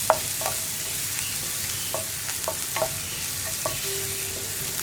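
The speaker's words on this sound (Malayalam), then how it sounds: "സവോളയൊന്നും ഒരുപാട് വഴറ്റിയെടുക്കേണ്ട ആവശ്യമില്ല, ജസ്റ്റ് ഒന്ന് ട്രാൻസ്പെറൻ്റ് ആയി വരുന്നത് വരെ വഴറ്റിയാൽ മതി" Sliced onions sauté quietly in a pan for a thorn-style sprouted chickpea dish, a soft steady sizzle broken by intermittent scraping and clicking stirs of the spoon.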